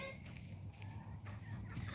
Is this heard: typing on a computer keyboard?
no